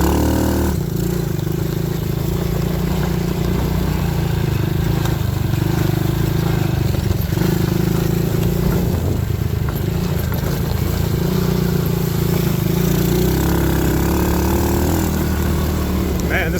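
A quad ATV engine runs steadily with a low, rough idle-like rumble. It stays at a fairly even level throughout, with faint clatter and some background noise mixed in.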